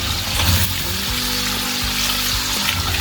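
Whole tomatoes, some with skins on, sizzle loudly in hot oil in a pan for chicken Shinwari, a steady, dense crackle with a few brief dips and no talking.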